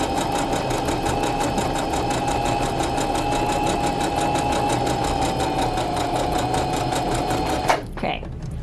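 A sewing machine stitching at a steady fast pace, its even mechanical whir and rapid needle clatter running close and loud before stopping abruptly near the end.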